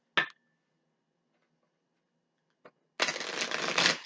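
Gilded Tarot cards being shuffled: a short riffle of cards at first, a small tap later, then a sustained, fairly close shuffling rustle lasting about a second. No voices.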